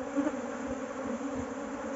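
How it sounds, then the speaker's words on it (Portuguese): Many bees buzz around a hive set in a tire, a dense steady hum close by with no talking, holding at an even level throughout. "Olha o tanto de abelha, ó."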